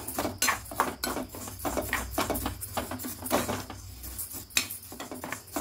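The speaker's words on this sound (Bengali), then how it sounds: "ডালটাকে একটু হালকা কড়াই ভেজে নেব" Lentils are dry-roasted in a wok, stirred with a utensil that scrapes and clatters against the metal in quick, repeated strokes, close and fairly loud, with no voices.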